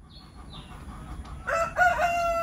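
Chickens in a chicken coop give a few soft clucks, then one bird breaks into a loud, close rooster-like crow that fills the second half over faint background noise.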